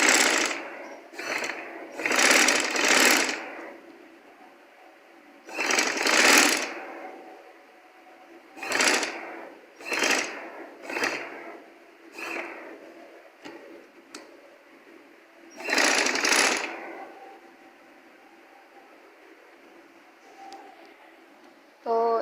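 A domestic sewing machine stitches piping onto a sleeve in short bursts of close whirring, stopping and starting repeatedly with quiet pauses between runs.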